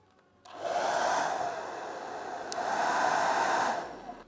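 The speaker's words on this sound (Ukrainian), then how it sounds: "Ось у мене є фен, потужність якого зазначена 1400 Вт" A 1400 W hair dryer powered by a Bluetti AC70P power station blows with a steady rushing whoosh, its airflow swelling and easing slightly over a few seconds before switching off.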